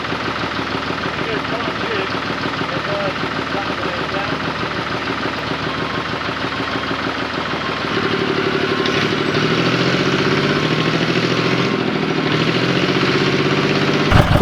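Heavy tractor and truck engines rumble and idle continuously, growing louder and deeper partway through as the machines strain under load, pulling backwards to free a stuck van from wet ground.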